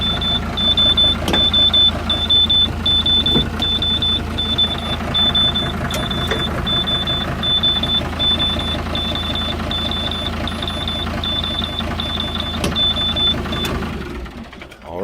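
An old Kubota tractor engine, low on coolant, runs steadily with a continuous mechanical clatter and hum, loud and close, broken by a few sharp knocks and a repeating high electronic beep, before cutting out near the end.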